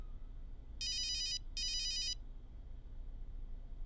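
A mobile phone ringtone plays two short, bright electronic bursts in a quiet room, then the ringing stops.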